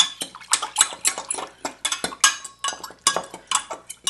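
Lemon juice salad dressing whisked in a bowl for a massaged kale salad: quick, irregular scraping and clinking strokes against the bowl, close and fairly loud, in bursts with short pauses.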